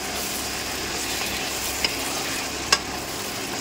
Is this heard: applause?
no